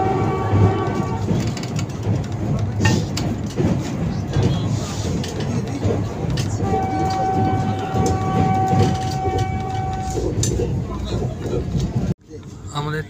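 Onboard the 22895 Puri Vande Bharat Express between Kolaghat and Kharagpur, a steady loud rumble of the train running on the tracks continues throughout, with faint rhythmic wheel clatter and a brief drop near the end.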